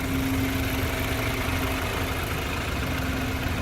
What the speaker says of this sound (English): I'll let you hear the engine uninterrupted.